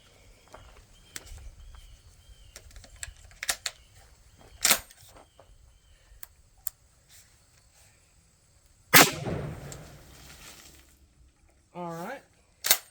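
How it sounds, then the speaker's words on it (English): One 12 gauge 00 buckshot round goes off from a Mossberg 930 tactical shotgun outdoors, a sharp blast with a rolling tail midway through. Scattered small clicks come before it and a brief voice follows at the end. "We'll be shooting it through a Mossberg 930 tactical."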